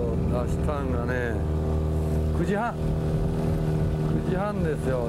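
A boat's engine hums steadily while the boat is launched at a crowded ramp on Shichikawa Dam lake, with someone talking over the motor throughout.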